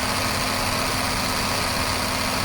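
A constant mechanical hum from a running Ford Escape V6 engine with a noisy air conditioning compressor's steady whirring drone, unbroken and close.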